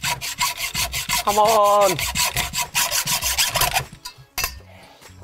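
Hacksaw cutting rapidly through a car steering lock, with loud, close, rhythmic rasping strokes that stop near the end, while a voice shouts briefly over it.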